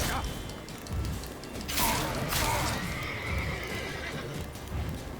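A horse in the video game The Witcher 3 neighs loudly over a dense, noisy background, with hooves clopping and muffled thuds around it.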